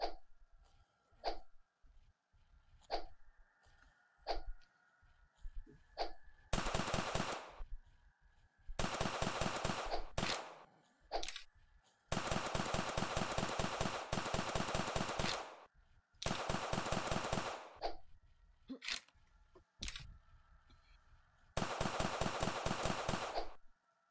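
Rapid automatic gunfire in a zombie shooting video game, coming in repeated sharp bursts separated by single shots and short pauses over a low steady background hum.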